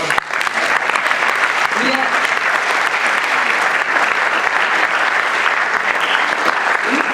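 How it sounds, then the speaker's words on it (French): Loud, sustained applause from an audience at an opening evening event greeting Alan Herrera, a dense even wash of clapping throughout with faint voices mixed in. "peut l'applaudir"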